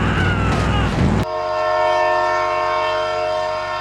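A train in the BeamNG driving game sounds a loud, sustained horn right after a brief burst of rumbling noise, the blast holding steady to the end.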